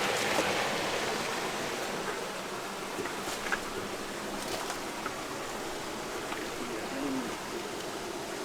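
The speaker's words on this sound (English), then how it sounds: "The river is running underneath." Steady broadband rush of a river stream running beneath an old mill in rural central Portugal, continuous and fairly distant, with faint insect buzz and bird chirps over the flowing water.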